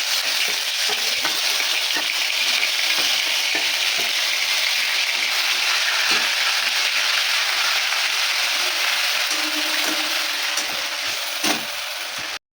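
Cumin paste, ginger-garlic paste and whole garam masala fry in hot oil for a soybean korma, giving a loud, steady, close sizzle that holds evenly throughout.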